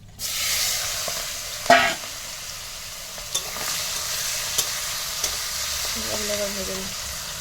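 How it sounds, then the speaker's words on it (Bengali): Prawns frying in a pan give a steady, close sizzle with occasional clatter from stirring and one sharper knock, no voices, some faint tonal noise near the end. "এখন চিংড়ি মাছগুলো ভাজা করে নিচ্ছি"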